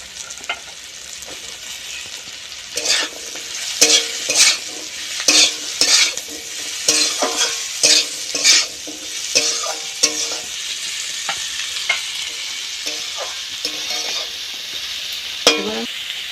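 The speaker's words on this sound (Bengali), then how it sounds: "উচ্ছে কুমড়ো ভাজা হয়ে গেছে" Bitter gourd and pumpkin fry in a pan with a steady sizzle, broken by repeated scraping stirs of a spatula, close and loud, with no talking.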